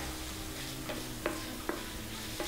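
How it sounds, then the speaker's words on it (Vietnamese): Chopped muscovy duck meat stir-fried with chili in a hot pan, a steady close sizzle with a few sharp clicks of the spatula against the pan, no voices. "Khi mà thịt ngan của chúng ta xèo xèo săn săn như này nhá"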